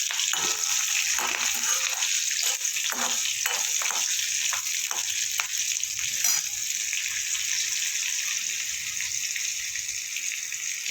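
Asafoetida, bay leaf, fennel and green chilli fry in hot oil as a tempering, a loud continuous sizzle broken by sharp spattering pops and stirring scrapes.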